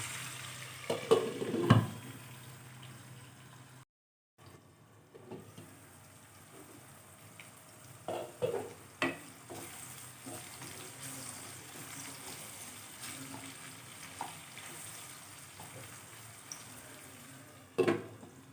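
Medium tomato pieces softening in fried ginger garlic paste in a pan, a quiet low sizzle with a few sharp utensil clinks and a brief silent gap, otherwise calm and close.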